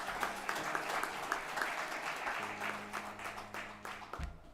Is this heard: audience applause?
yes